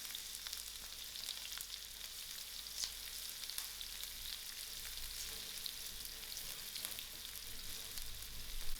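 Chopped onions fry in hot oil for a chicken curry braise, giving a steady, dense sizzle with faint crackles and spits, close up and fairly even throughout, with no talking.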